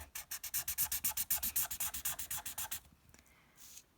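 Someone colours an illustration by hand, making quick, rhythmic scratchy rubbing strokes close up for about three seconds, then a few fainter scrapes in a quiet room, with no talk.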